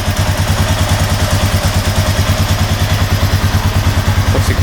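Used ATV engine runs at a steady idle right after starting, a loud, close, rapid chugging pulse with mechanical clatter and no talk.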